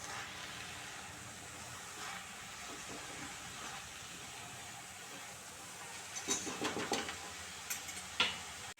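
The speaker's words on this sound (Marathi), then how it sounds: "भाजी चांगली हलवून घेऊया." Methi (fenugreek) vegetable is stirred in a kadhai (pan) over a low, steady sizzle, with a quick run of louder scraping and clattering strokes near the end.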